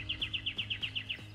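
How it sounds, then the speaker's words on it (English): Small birds chirp in a quick, regular series of high, bright tweets, about nine in a row, moderately close over faint background noise. "Oh no, it's finches."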